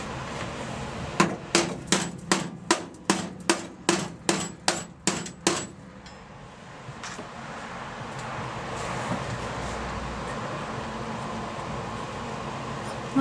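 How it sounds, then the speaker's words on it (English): Hammer blows struck from underneath a Ford Cortina Mk3 estate, about a dozen sharp metallic strikes in a steady rhythm, loud and close, then stopping and leaving a windy outdoor hiss. "Let's hammer from underneath."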